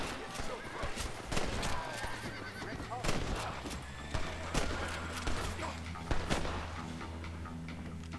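A horse in the Red Dead Redemption video game whinnies amid clip-clopping hooves and bursts of gunfire, with someone talking over the action.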